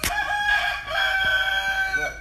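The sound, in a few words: fighting rooster crowing in the background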